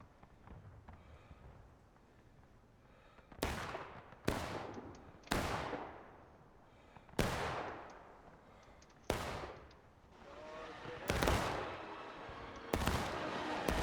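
Gunfire in The Blue and the Grey, a multiplayer Civil War game, rendered as seven loud, separate musket or cannon shots that boom at irregular intervals and trail off into echoing decay, with no voices.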